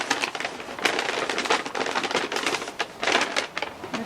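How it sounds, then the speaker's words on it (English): Dense crinkly rustling and crackling goes on without a break as a hand rummages to the bottom of a bag for yarn, close and fairly loud. "And of course it's right at the bottom of the bag, so excuse any rustling."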